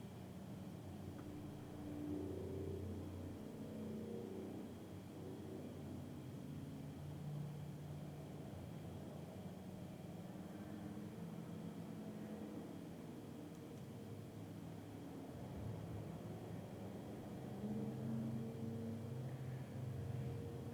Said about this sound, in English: Listen to all this traffic.